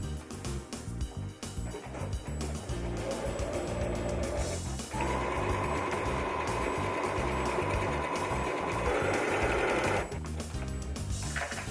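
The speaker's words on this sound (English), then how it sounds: "Before sewing buttonhole, we need to pull down buttonhole lever. Now our machine ready to start work." A sewing machine stitches a buttonhole, running in a steady, fast mechanical whir with rapid needle clatter that changes tone partway through, close and alone.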